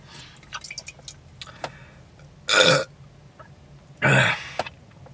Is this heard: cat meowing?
no